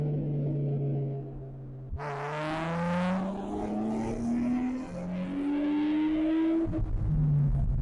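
A Nissan 350Z fitted with a 370Z fuel pump on a test drive, its engine note rising and falling through several gear changes, revving up steadily and dropping between shifts, loud and close from the cabin with no talk.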